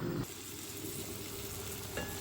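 Dried gajar fish being tempered with spices in a hot pan, a steady close sizzle and hiss with a brief louder stir at the start and another scrape near the end, no talking.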